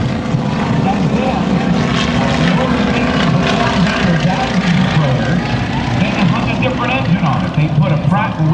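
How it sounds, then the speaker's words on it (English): Stearman biplane fitted with a 450-horsepower Pratt & Whitney nine-cylinder radial engine flying at an airshow, a loud, throbbing propeller drone that stays continuous throughout, with voices faintly present beneath the engine noise. "they put a Pratt & Whitney 9-cylinder radial engine on it that developed 450 horsepower"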